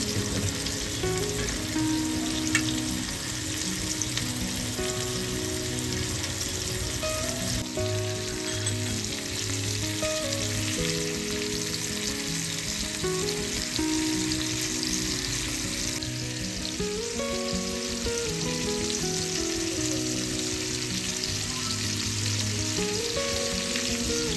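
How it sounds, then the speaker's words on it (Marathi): Pomfret fish frying in oil in a pan, a loud steady close sizzle and crackle lasting throughout with no one speaking, while a low musical background runs underneath. "पापलेट मस्तपैकी फ्राय होत आहेत."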